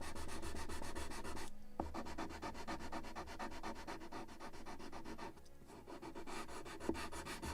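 Scotch-Brite abrasive pad rubbed over the wooden planking of a model of the 1776 gunboat Philadelphia, giving a steady close scrubbing rasp with a couple of short pauses.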